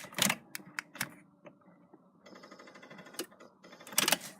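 Fuses click inside a Holden VT car with an electrical fault, a quick irregular series of sharp clicks and ticks, some doubled, close and fairly quiet, with a soft buzzing patch in the middle.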